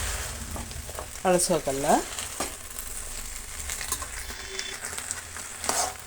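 Sweet pumpkin palya fries in a pan with a steady, close crackling sizzle and stirring scrapes, while someone speaks briefly over the cooking.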